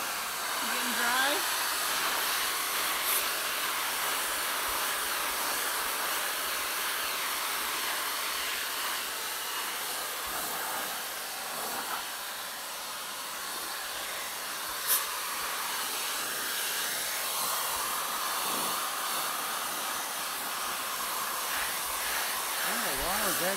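A Jellyfish handheld pet dryer blows on a dog with a constant, loud, airy hiss that runs the whole time with only slight changes in strength.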